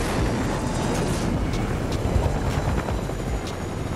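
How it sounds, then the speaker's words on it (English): Helicopter in a video game, a steady loud rotor drone filling the whole clip with no talk over it. "Why is there a freaking helicopter chilling in here?"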